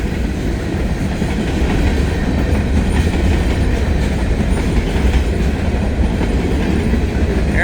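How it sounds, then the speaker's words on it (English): Two heavy NS and CSX freight trains pass each other in the rain, a dense continuous rumble and rolling clatter of railcars filling the scene steadily from start to finish, loud and close. "Two heavy trains going past each other, shaking the ground under my feet,"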